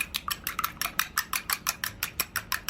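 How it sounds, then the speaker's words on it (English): A whisk beats egg white in a bowl, a quick and even run of sharp metallic clicks about five per second, close and clear with no voices. "Then you whisk it."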